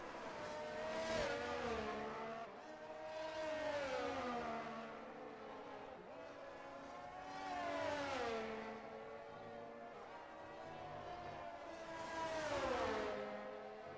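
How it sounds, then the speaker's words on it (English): A Mercedes Formula 1 car in an F1 video game at the Saudi Arabia circuit, its high engine whine rising and falling through repeated upshifts and downshifts in long sweeping waves, fairly faint and steady. "We have a Mercedes coming across the first sector now of Zatsi"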